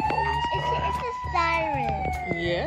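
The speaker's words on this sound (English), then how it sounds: "It's a siren." A toy police car siren wails in rising and falling sweeping tones, loud and close, repeating over about three seconds.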